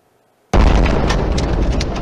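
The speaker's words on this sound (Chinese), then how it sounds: "当时基辅的这个爆炸画面，其实也蛮多的画面有曝光哦" Loud artillery shell blast in Kyiv strikes in abruptly after silence, a heavy sustained boom with crackling debris that stays loud to the end.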